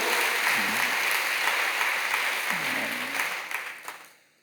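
A church Bible-school audience applauds its volunteers, a broad continuous wash of many hands clapping that holds steady, then thins and fades out near the end, with brief voice traces underneath.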